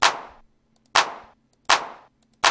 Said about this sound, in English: it also has claps. Put that on every second kick.